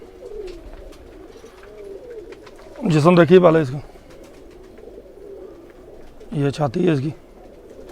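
A Batera pigeon coos softly at close range while someone speaks over it in two short bursts, the low murmuring calls sitting beneath his voice.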